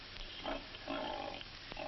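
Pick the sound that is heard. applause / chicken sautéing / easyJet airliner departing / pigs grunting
pigs grunting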